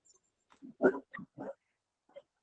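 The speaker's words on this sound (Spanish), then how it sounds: "ahí están mis perros haciendo bulla" Dogs at home giving a few short barks and yelps, separated by pauses, at moderate distance with no talking over them.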